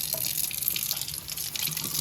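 Running tap water splashes steadily in a sink as a cat water fountain pump is rinsed underneath, a continuous close hiss and gurgle with no talking.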